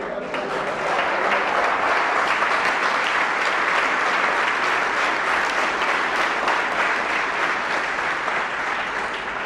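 A church congregation applauds loudly and continuously, a thick wall of clapping from many hands that stays steady throughout without pause.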